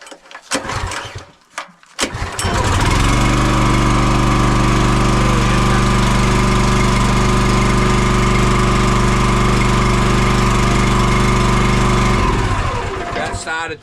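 A Kohler engine on a log splitter, started with choke on a cold morning around freezing, sputters through a few tries, then catches and runs at a loud, steady drone before stopping near the end.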